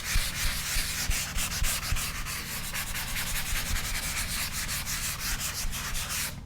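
Sanding over a drywall hole patch gives a continuous rasping, back-and-forth scrub with a quick regular stroke rhythm, close and fairly loud, alone without speech.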